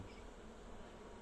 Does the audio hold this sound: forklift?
no